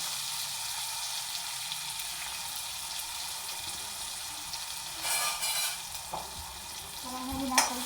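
Chopped tomato drops into a sizzling tempering of curry leaves, crushed garlic and green chili paste, giving a constant frying hiss with bursts of stirring scrapes and a sharp clink near the end.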